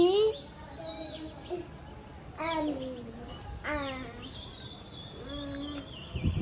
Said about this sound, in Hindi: कबूतर उड़ा रहे हैं लोग।